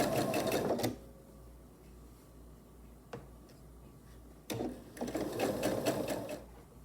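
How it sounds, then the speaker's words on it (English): A sewing machine stitches a quarter-inch seam on a vinyl pouch in two bursts of rapid whirring, one short at the start and a longer run near the end, with a quiet pause between them. "I'll take it to the machine and I'll sew a 1/4 inch seam allowance right along here."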